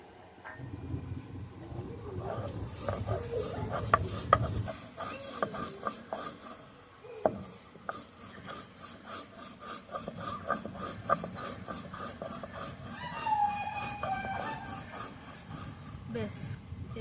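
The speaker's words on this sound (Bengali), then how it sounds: "এবার যে ভাজা জিরেটা আমি নামিয়ে রেখেছিলাম সেটা এবার বেটে নেব।" Roasted cumin being ground into a paste, heard as repeated rough rasping strokes of stone on stone at close range, with a voice speaking through part of it.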